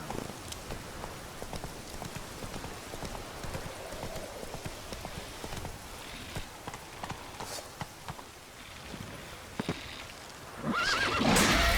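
Roach, a horse in The Witcher 3, trots with steady hoofbeats over a backdrop of falling rain, then gives a loud, close whinny near the end.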